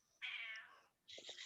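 A real house cat meows twice in a quiet room, a long clear call followed by a shorter one, faint and alone with no talking.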